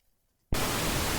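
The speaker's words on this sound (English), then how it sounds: "And there I get that pink noise." Broadband pink noise from a WM8960 audio codec during a two-channel speaker test cuts in abruptly after half a second of near silence, then holds as a steady, loud hiss.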